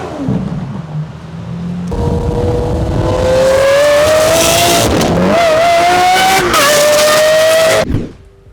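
A Lamborghini fitted with a Gentani aftermarket exhaust idles, then revs hard into a long, loud, sustained high-pitched scream. The engine blips and wavers as it climbs, then cuts off abruptly and falls quiet.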